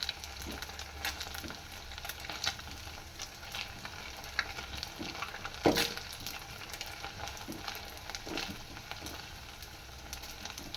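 Leftover-rice punugulu fritters fry steadily in hot oil, with a continuous close sizzle and occasional stirring clinks.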